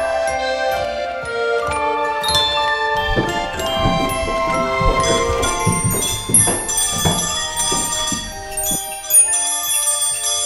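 A bell rings with bright, shimmering jingling tones over a busy, continuous background of chiming and tinkling, sustained and fairly loud throughout.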